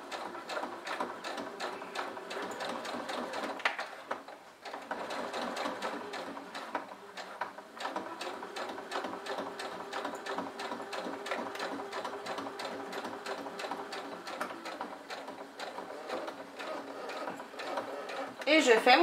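A sewing machine stitches fabric in a fast, continuous mechanical patter, close up, with one short pause partway through before the stitching resumes, while someone speaks quietly over it.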